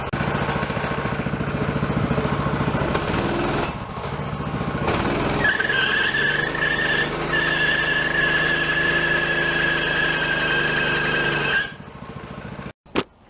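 Military-themed custom mini bike with its engine revving hard and steady while the rear tire spins to heat up, a loud high whine holding for several seconds before the engine cuts off abruptly near the end.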